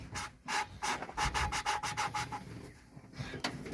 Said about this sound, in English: We lapped all the valves in